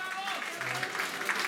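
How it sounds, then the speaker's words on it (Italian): A crowd at a Mother's Day festa gives an orchestra a continuous round of applause, many hands clapping steadily while someone talks over it on a microphone. "vorrei sentire un applauso per i miei ragazzi"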